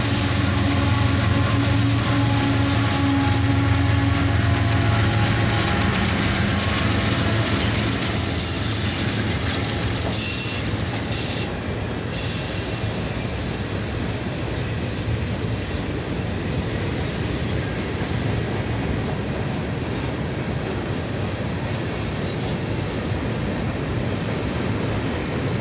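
A long southbound manifest freight train rolls steadily past nearby, a continuous loud rumble of wheels and railcars with brief squeals and clatter, no voices.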